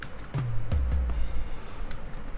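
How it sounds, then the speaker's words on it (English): Two or three deep drum tom hits with low, booming decays, spaced a fraction of a second apart over a dull background rumble. "Both of the tom sounds like this"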